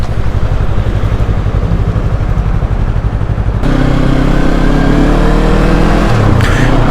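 A light, easy-handling motorcycle engine drones loud and close while riding, a steady pulsing rumble that shifts to a deeper, harder-pulling note partway through.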